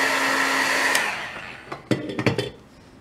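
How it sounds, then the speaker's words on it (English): A heat gun drying watercolor paint blows with a loud, steady whoosh that winds down after about a second. A few close clicks and taps follow. "you could just dry it really quickly with a heat gun."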